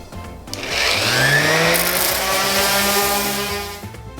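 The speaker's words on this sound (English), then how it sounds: "I'm gonna distress it with my rotary sander here just to give it an edge look." A rotary orbital sander running on painted wood with 120 grit sandpaper, distressing a farmhouse coffee table; a loud steady whirring drone spins up and holds for several seconds before winding down, heard alone up close.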